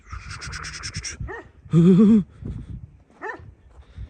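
A Kangal dog barks and yips in a few sharp bursts outdoors, with one louder whining howl in the middle, close by and without speech.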